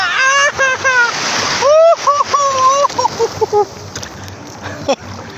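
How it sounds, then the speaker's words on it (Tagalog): Sea waves washing onto a beach, a rushing splash under loud excited voices and shouts, with surf hiss continuing throughout. "Ma malaking alon yun ah"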